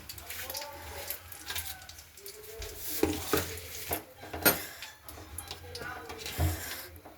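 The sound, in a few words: potatoes being added to a cooking pan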